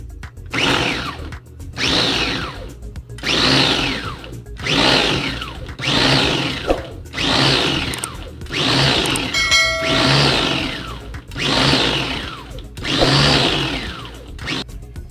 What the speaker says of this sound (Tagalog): ilagay na natin sa blender para i-blender na natin